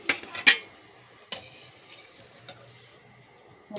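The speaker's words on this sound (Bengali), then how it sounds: "এগুলো হচ্ছে লাস্ট বড়া, ভাজা প্রায় শেষ।" Palm fruit fritters (taler bora), the last few of the batch, fry in hot oil with a soft steady sizzle, broken by a few sharp clinks and scrapes of a utensil against the pan near the start.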